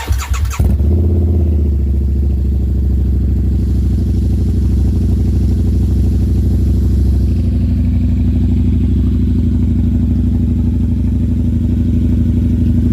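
A Harley-Davidson V-Rod Muscle with an aftermarket exhaust fires up after a brief crank, then settles into a deep, steady, throaty idle that stays loud and close for the rest of the clip.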